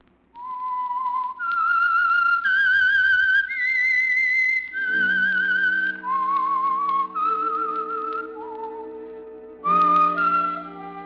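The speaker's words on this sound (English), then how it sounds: "That whistle is your signal" A clear, melodic whistled tune, the theme of the radio program The Whistler, loud and close, moving through sustained notes with a low instrumental accompaniment joining partway through.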